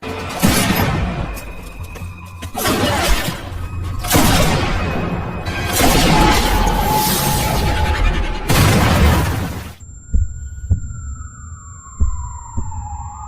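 Loud, dense film action mix with heavy booming blasts, ending in a few sharp isolated long-range sniper shots over a quieter high tone and falling whine.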